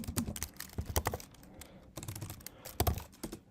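Code being typed on a computer keyboard, quick bursts of crisp key clicks close by, pausing briefly between runs of keystrokes.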